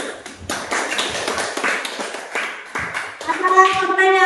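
Classroom applause after a group presentation, scattered hand claps from students across the room, with children's voices breaking in near the end.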